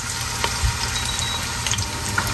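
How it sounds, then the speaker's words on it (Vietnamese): Ginger slices fry in hot oil in a pan, a dense continuous sizzle with faint crackles and a few soft knocks, close and fairly loud. "Dầu nó nóng bỏ mấy lát gừng vô nha."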